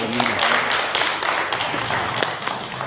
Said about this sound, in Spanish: Vamos a brindarles un fuerte aplauso